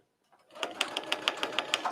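A sewing machine stitches along a black line on a quilted book cover, a close, quick, steady run of needle beats that starts after a brief pause and continues evenly.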